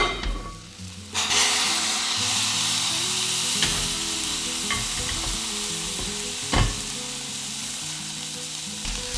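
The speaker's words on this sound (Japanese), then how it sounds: "じゃがいもを蒸し焼きにしていってください" Steady, loud sizzling from potatoes steaming without added water in a hot waterless pot, with a few clanks and scrapes as the contents are stirred; no voices.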